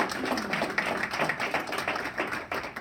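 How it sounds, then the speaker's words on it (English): An audience applauds with steady, crowded clapping, the individual claps audible as a rapid, uneven patter at moderate loudness, alone and without talk. "Let's give a round of applause for Ed and Sharon"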